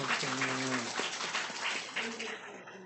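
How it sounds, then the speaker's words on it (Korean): A church congregation applauds during a Sunday daytime service, a soft, diffuse patter of many hands clapping at a moderate distance, with a voice briefly speaking at the start and end. "박수."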